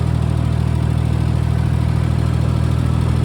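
Ford 2000 tractor engine running while being driven, a loud, steady, low droning rumble with an even throb that continues unbroken from start to finish.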